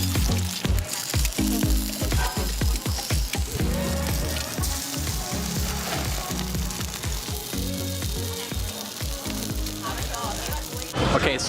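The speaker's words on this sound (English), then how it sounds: "she's taking some really hot pans, she's pouring some oil in there, and she's throwing some eggs, and then she is frying the eggs" Eggs frying in hot oil in several hot pans at a street stall making egg banh mi, a steady loud sizzle with clattering utensil knocks and busy background noise throughout.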